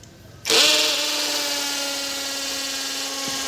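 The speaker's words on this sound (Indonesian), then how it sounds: "langsung saja kita coba ke beton pakai ukuran bor beton 10 mili" A brushless Kamolee impact drill with a 10 mm masonry bit starts abruptly and bores into concrete at a steady, loud, high-pitched whine with a harsh buzzing edge, continuing without pause.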